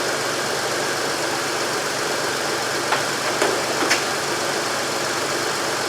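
A 2006 Honda Ridgeline idling close by with a steady, even engine hum and a few faint ticks partway through, no voices over it.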